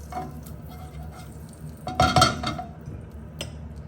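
A spatula spreads a potato and egg mixture across a non-stick pan for a potato pea tortilla, giving soft scraping and stirring with a brief clattering burst midway and one light tap near the end, over a quiet kitchen background.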